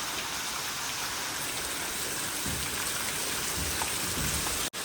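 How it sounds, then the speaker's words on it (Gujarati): Heavy rain pouring down during a flood, a dense, constant hiss of downpour close by and loud, with a brief dropout near the end and no voices. "બરાબરનો વરસાદ આવવા લાગેલો છે"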